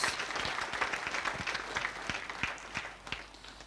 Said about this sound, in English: And for our citizens, a final round of applause.